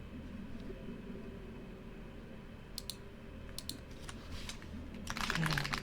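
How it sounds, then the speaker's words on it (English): Nearby computer keyboard typing over a steady low rumble: a few sparse clicks, then irregular bursts of keystrokes growing denser and louder toward the end, with no voices. "How relaxing the keyboard sounds."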